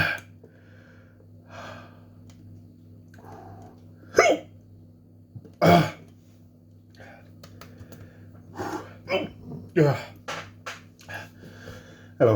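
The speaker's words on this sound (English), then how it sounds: "Hello, Hiccups." Hiccups after chugging Da Bomb hot sauce: several sharp, gasping jolts come at irregular intervals, close and loud over a quiet room with a low electrical hum. Breathing and small noises fill the gaps.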